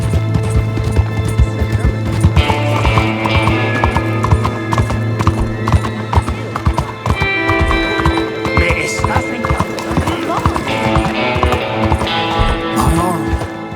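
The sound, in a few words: horse galloping in video game Red Dead Redemption 2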